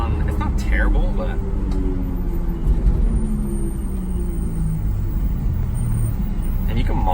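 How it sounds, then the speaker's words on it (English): Racing brake pads on a Honda S2000 slowing from about 40 mph give off a faint, wavering tonal squeal beneath road noise, while someone talks over it. "If you push the brakes a little bit more, you get a little bit more squeal out of it"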